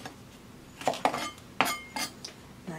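A sharp utility knife from a six-piece kitchen set slices the edges off an onion. A handful of crisp, close cuts and taps land on the board at an uneven rhythm over a quiet room.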